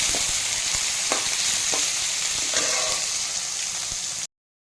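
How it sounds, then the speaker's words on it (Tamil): Onions sauté in a pan with curry leaves while lunch is cooked at home, making a loud, steady sizzle and frying hiss with a few soft stirring scrapes, and then it cuts off abruptly. "வெங்காயம் ஓரளவுக்கு நல்லா வதங்கிருச்சு"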